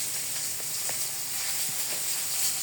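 Fish sizzles in a frying pan with a steady, fairly quiet hiss, broken now and then by small pops and crackles.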